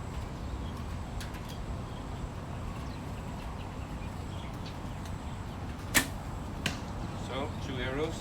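Arrows loosed from a 61-pound Assyrian bio composite bow by Grozer strike a target at 30 meters, heard as two sharp, brief impacts in quick succession over steady outdoor background noise.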